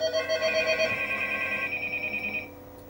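A telephone rings with a steady electronic warble for about two and a half seconds, fairly loud and close, then stops as if answered; no voices.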